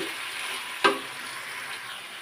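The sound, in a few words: stirring elephant apple pickle with chilli powder in a pan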